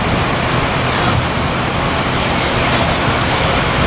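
Steady, dense rain pours down at an outdoor car club meet, a continuous hiss of drops striking surfaces, loud and close with no voices.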